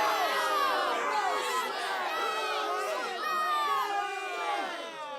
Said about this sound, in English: that angry crowd has gathered to try and keep us from entering the grounds